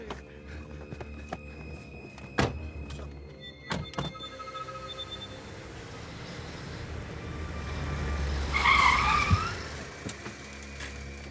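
Car doors thunk shut a few times close by, then an engine builds and revs with a brief tire squeal as the car pulls away, with no voices over it.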